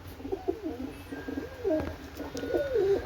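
Pigeons coo softly in a series of low, rolling calls, several overlapping throughout, fairly close with faint background noise.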